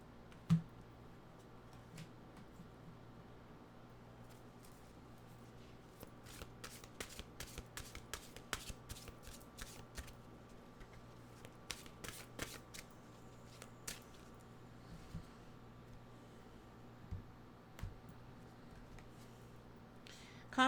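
Deck of mantra cards shuffled by hand, a quiet close-up series of crisp riffling snaps and flicks in irregular bursts over a soft room hum.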